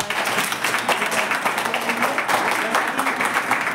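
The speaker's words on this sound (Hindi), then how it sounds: "मैं चाहूँगा एक बार तालियां बजा दो" Applause from a gathering at a birth anniversary function honouring B. R. Ambedkar, dense and steady throughout, with voices mixed in under the clapping.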